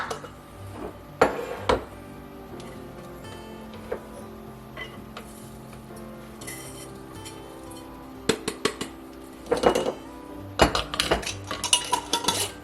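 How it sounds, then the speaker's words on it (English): A homemade taco seasoning spice mix being tipped into a container, with clinking utensil and glass or metal taps, scattered rattles and a few louder knocks near the end. "Now I'm going to go ahead and put this mixture in this container"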